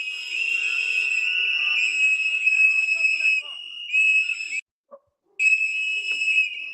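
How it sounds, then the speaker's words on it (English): Shrill, sustained police-style whistle blasts at a tense roadside traffic stop, near and loud, in long steady tones broken by brief pauses and one short gap of silence, with faint voices and street noise beneath. "They're blowing the whistle"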